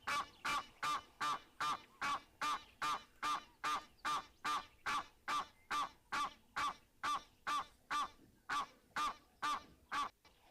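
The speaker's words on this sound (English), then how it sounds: "Thank you for announcing yourself because we had no idea that there are actually Egyptian geese here at Gowrie Dam." An Egyptian goose at Gowrie Dam honks over and over in a steady, evenly spaced rhythm, around twenty loud nasal calls in a row, with no talk over them.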